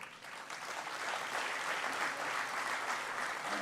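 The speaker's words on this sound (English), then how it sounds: "We would like to welcome them with a huge round of applause." A crowd applauds steadily, many hands clapping together in a dense, continuous patter heard from a slight distance.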